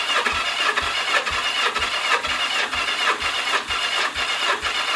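A 1983 Yamaha XJ900 Seca motorcycle engine cranking over on the starter during a compression test, with a steady, even rhythm of loud repeated pulses and no ignition or voices.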